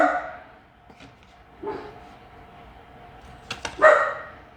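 A dog barks indoors in a few short, spaced bursts, moderately close and otherwise quiet between barks.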